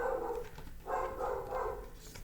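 A dog barks several times in quick bursts, fairly close and moderately loud, with short pauses between barks.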